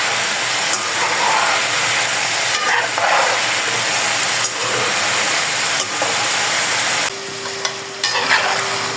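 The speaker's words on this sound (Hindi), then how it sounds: "इस पॉइंट पे आके हम इसमें चम्मच को चलाएंगे।" Homemade French fries frying in hot oil give a loud, continuous close-up sizzle and bubbling, with a spoon occasionally stirring through them.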